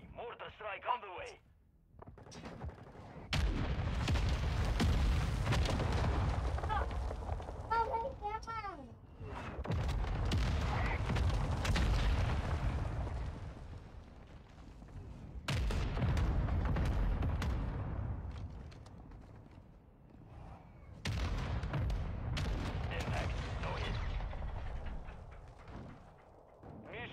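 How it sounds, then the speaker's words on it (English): Mortar strikes land in Modern Warfare II as a series of heavy booming explosions in several bursts, each rolling out for a few seconds, with radio chatter and voices between them. "Solid copy. Mortar strike on the way."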